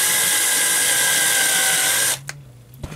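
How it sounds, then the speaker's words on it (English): A small drill whines loud and steady while drilling out a rivet on a Matchbox model, then cuts off abruptly, leaving a low hum and a couple of faint taps up close. "I don't really know how far down I can drill"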